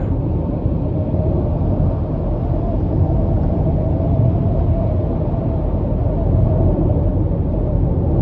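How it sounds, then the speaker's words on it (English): Steady wind and road roar fills the cabin of a 2022 GMC Terrain SLT 1.5T AWD cruising down an interstate, a continuous low rumble with no talking. "Just a little bit of wind noise"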